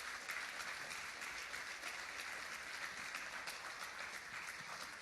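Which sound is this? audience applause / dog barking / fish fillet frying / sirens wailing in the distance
audience applause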